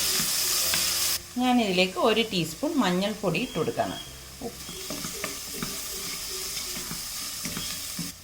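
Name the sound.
sautéing ginger, green chilli, onion and carrot in pan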